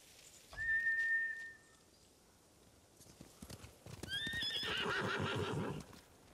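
Horses in the video game Ghost of Tsushima whinny and gallop off, a long clear neigh followed by quieter hoofbeats and then a burst of several high neighs over thudding hooves, close and loud.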